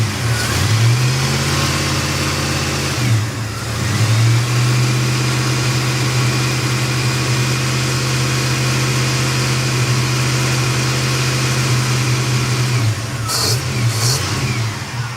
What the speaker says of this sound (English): You rev it, it goes back down to 40